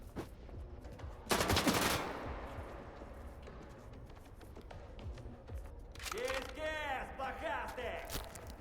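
A sharp burst of rapid gunfire in S.T.A.L.K.E.R. 2: Heart of Chornobyl, fired through doors at players shut in a freight wagon, followed by a stretch of muffled game noise and voices, then another clattering volley near the end.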